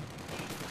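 A rapid burst of gunfire in the video game Company of Heroes 2 crackles over dense, noisy background, several shots running together like automatic fire.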